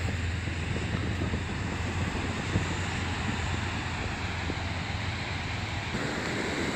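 Ocean waves and surf at Pierpont Beach in Ventura, California, on a sunny, warm day with onshore flow, heard as a steady, loud wash of breaking water and wind rumble throughout, with no talking.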